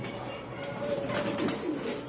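Racing pigeons coo softly close by in a few short low calls, with light rustling and faint background noise.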